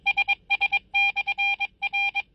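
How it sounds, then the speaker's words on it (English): A Quancheng UV-K5 handheld radio receiving on the 2 meter band gives clear, loud bursts of beeping tones in uneven groups, some short and some held, over a quiet background. "here is how the 2 meter kind of sounds."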